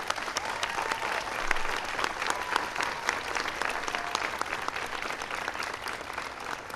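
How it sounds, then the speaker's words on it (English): An audience at a National Teacher of the Year award ceremony gives Arne Duncan a big round of applause, sustained even clapping from a large crowd, moderately distant and steady throughout. "Give him a big round of applause."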